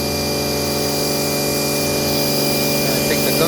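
A new pressure washer from Giraffe Tools blasts gunk off a floor, a loud, steady mechanical drone with a constant pump whine and rushing spray, continuous and close, with no speech over it.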